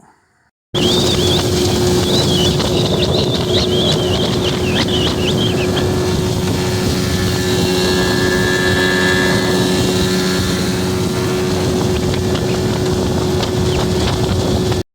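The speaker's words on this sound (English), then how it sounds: "Sorry about the wind." Steady, loud wind roars across the microphone throughout, with buffeting gusts and a constant hum underneath.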